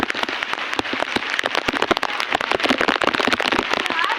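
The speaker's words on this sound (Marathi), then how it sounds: "पाऊस वाढतोय" Steady heavy monsoon rain patters densely on a surface nearby, with constant crackling drops and no talking.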